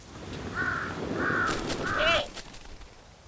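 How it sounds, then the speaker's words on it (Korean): Crows caw near a Eurasian eagle-owl nest in wetland, three harsh calls in steady succession followed by a shorter, higher burst, fairly close over a soft background hiss. "바로 이 까마귀 때문입니다."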